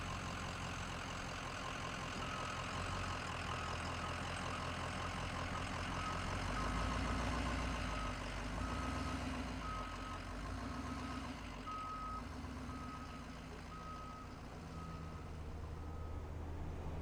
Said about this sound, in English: I'm driving the moving truck by myself